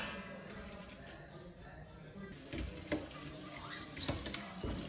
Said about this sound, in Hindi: पानी को स्ट्रेन करने के बाद मैं थोड़ा-सा टैप वाटर इसमें डाल रही हूँ